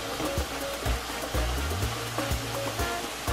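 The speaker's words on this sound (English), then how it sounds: "The one thing is that mushrooms release a lot of moisture, so I'm just going to stir these up." Mushrooms sizzling in butter in a pan, a steady hiss of frying broken by repeated clacks and scrapes as they are stirred, close and moderately quiet.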